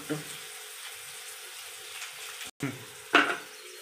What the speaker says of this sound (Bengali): ছোলো জালে মশলাটা ভাজবেন, নয়তো মশলা পুড়ে যাবে